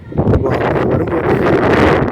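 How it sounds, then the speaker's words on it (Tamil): Cold wind blowing at Eagle's Viewpoint in Nuwara Eliya, a hilltop at 7339 feet: a loud, steady rushing gust buffeting the microphone without pause. "இவ்வளோ நடந்து வரும்போது இல்லாத ஒரு குளிர்மையான காற்று இங்கே வந்தோன்னே அடிக்குது"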